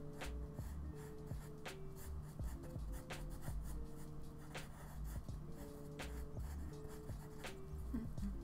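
A pencil scratches and scrapes on paper in soft, irregular strokes, close and quiet over a faint background hum, with no talking.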